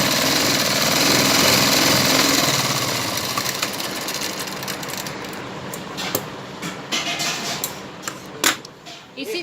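Sewing machine stitching a seam on a salwar, a loud steady mechanical whir for the first few seconds, then fading into intermittent bursts and clatter as the stitching slows.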